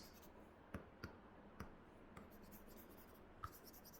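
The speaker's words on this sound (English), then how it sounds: "let me erase this quickly and write it" Chalk or a marker taps and scratches across a lecture-room board as something is erased and rewritten, a handful of sharp, isolated knocks spaced irregularly over a faint, quiet room hum, with no speech.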